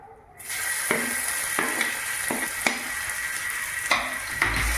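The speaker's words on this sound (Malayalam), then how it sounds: "നമുക്കത് ചൂടാകുമ്പോൾ ഇഞ്ചിയും വെളുത്തുള്ളിയും കൂടി ചതച്ചത് ഇട്ട് കൊടുക്കാം കേട്ടോ." Crushed ginger and garlic land in hot coconut oil and break into a loud, steady sizzle, with several sharp spoon taps and scrapes against the pan.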